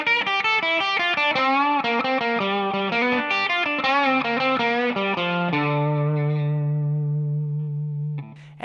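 Electric guitar plays a blues intro, with a quick run of distorted single notes leading into a long sustained low note that rings out before a brief restart at the end.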